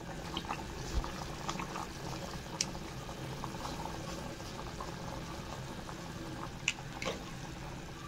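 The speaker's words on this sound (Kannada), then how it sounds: "ಚೆನ್ನಾಗಿ ಕುದೀತಾ ಇದೆ" Vegetables and dal for millet bisibele bath simmer in a pot, giving a soft, continuous bubbling with occasional small pops and clinks, close and quiet.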